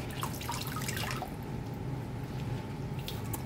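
Water drips and trickles off freshly blanched vegetables being drained for a wonton filling, with a few close splashy drips at first, then a quieter steady wet patter.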